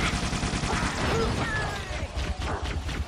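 Dense, rapid gunfire from Halo 3 ODST crackles in a continuous burst throughout, loud and close, with scattered impacts layered over the shots.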